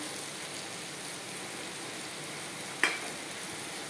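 Spice powders sizzle with tomato and onion in the pan, a steady frying hiss with one sharp scrape of stirring near the end.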